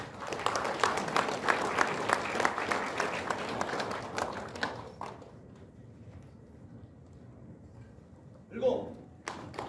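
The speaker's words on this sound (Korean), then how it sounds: "큰 박수를 보내주시기 바랍니다" Seminar audience applauding a speaker's introduction, a dense, steady burst of clapping that fades out after about five seconds, followed by quiet room tone and a brief murmur near the end.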